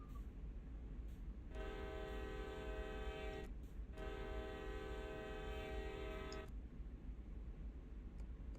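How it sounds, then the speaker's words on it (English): In a CSX train simulator game, the train starts up as its brakes release, with a steady low rumble and a sustained tonal whistle that sounds twice with a short gap between them, all at a low, even level. "Train brakes released."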